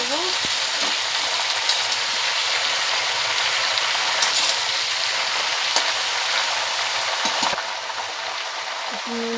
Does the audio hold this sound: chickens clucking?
no